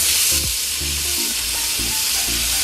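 Tomato and onion sautéing in a pan for a Kerala-style chicken biryani, a steady close sizzle with rhythmic stirring scrapes throughout, no talk.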